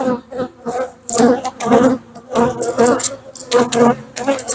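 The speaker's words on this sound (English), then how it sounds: "this box has plenty of bees in it" A hive box full of honey bees gives off a continuous buzzing hum, heard under nearby talking from a man.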